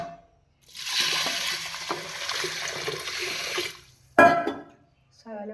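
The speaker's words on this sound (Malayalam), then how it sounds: "ശകലം വെള്ളം ഒഴിക്കാം" Water poured into a cooking pot for a Kerala-style mango and green gram curry, a steady rushing splash lasting about three seconds, followed by a short clatter and a brief voice.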